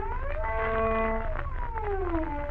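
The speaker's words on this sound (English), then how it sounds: "A glissando would be with the finger pressed solidly on the string and would give you a sound like this" A violin glissando with the finger pressed firmly on the string slides upward, holds, then glides down, smooth and moderately loud over the low background hum of an old recording, with no speech.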